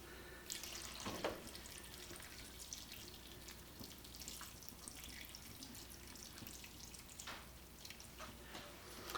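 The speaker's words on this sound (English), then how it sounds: "I'm going to add 2 cans of beef broth" Two cans of beef broth pour steadily into a soup pot, a continuous watery splash and trickle with a few brief clinks, fairly quiet and alone.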